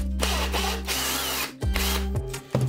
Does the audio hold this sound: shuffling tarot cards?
no